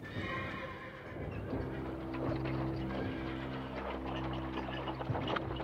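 Several horses neigh and whinny close by while hooves clip-clop steadily underneath, evoking cavalry and supply horses at a wartime battle, with no talking.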